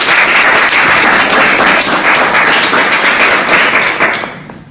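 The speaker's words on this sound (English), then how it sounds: "So let's welcome him with a round of applause." Audience applause in a hall welcoming a volunteer onto the stage at a Toastmasters talk; dense, steady clapping from a room of people that holds for about four seconds, then fades quickly.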